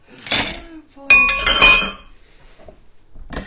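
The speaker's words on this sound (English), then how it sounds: "You just want to dry shake it again" A cocktail shaker with ice is shaken in two brief bursts, a bright rattling clatter of ice against metal and glass that is loud and close, separated by short quiet gaps.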